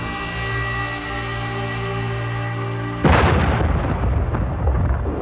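The Little David, a huge muzzle-loading mortar, fires a 3,700-pound bomb: a steady low mechanical hum gives way to one sudden loud, deep blast that rolls and rumbles on afterward.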